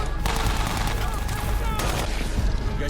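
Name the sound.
gunfire in The Walking Dead TV episode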